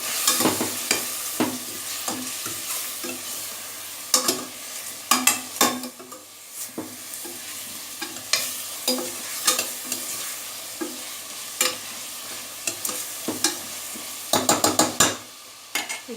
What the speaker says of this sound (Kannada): ಈಗ ಟರ್ಮರಿಕ್ ಪೌಡರ್, ಅರಿಶಿನ ಪುಡಿ ಎಲ್ಲ ಆದ್ಮೇಲೆ ಸ್ವಲ್ಪ ಮಿಕ್ಸ್ ಮಾಡ್ತೀನಿ.